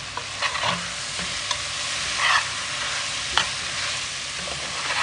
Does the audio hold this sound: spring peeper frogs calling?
no